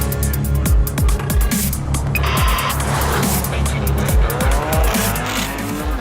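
A Volvo car with a Drive-E engine on a racetrack, loud engine roar with repeated gear shifts and squealing tires as it corners hard, close and continuous.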